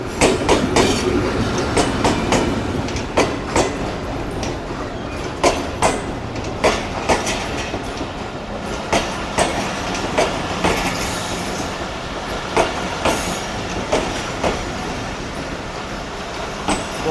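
The Jaffer Express, hauled by a Chinese locomotive, rolls into a station: a long run of regular clickety-clack wheel beats over rail joints with a faint wheel squeal, loud and continuous.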